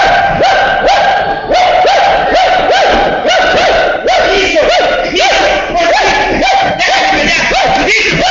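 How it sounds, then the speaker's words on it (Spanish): Several dogs bark over and over in a loud, rapid, overlapping chorus that runs continuously, close and boisterous, during a puppet theatre festival performance. "Nuestros perros de por sí son bravos, su instinto los hace ladrar."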